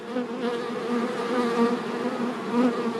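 A dense, steady buzzing of many stinging honeybees, close and continuous with a low droning hum, no voices.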